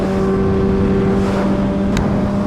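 An MV Agusta Brutale motorcycle fitted with a titanium quad exhaust drones steadily while riding, its engine note sitting level and close beneath rushing wind noise, with no talk.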